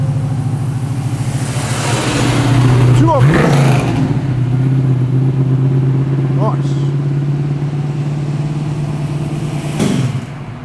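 A Mercedes SLR leaving a large car meet in Tempe, its engine droning loud and close for about ten seconds with a rising rev around the three-second mark, then fading, with brief sharp noises and background voices.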